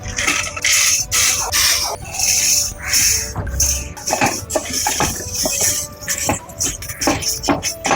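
Spices are dry-roasted in a pan for mango pickle, with a spatula rapidly scraping and rattling against the metal in a busy, close, uneven rhythm and a faint sizzle underneath.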